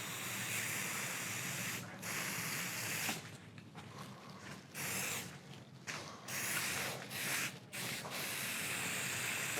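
A clogged spray paint can being used on a particle board epoxy table sputters in harsh hissing bursts, with the spray cutting in and out in short irregular gaps, close and fairly loud.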